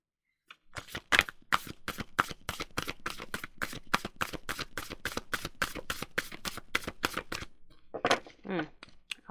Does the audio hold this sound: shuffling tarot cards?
yes